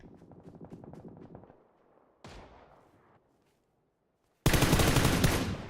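M4 rifle fire in PUBG: a rapid burst of shots, a pause, a single sharp blast, then silence before a loud, harsh close-range volley.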